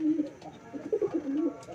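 Pigeons cooing at a breeder's loft, soft low throaty coos repeating close by over a brief stretch.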